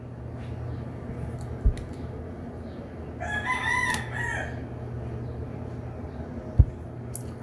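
A rooster crows once, clear and fairly close, over a steady low background hum, with two sharp knocks before and after.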